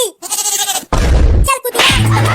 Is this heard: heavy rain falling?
no